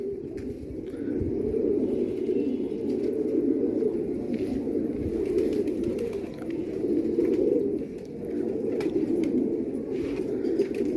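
Multani pigeons coo steadily in a continuous low, murmuring chorus from several birds at close range, with no voices speaking.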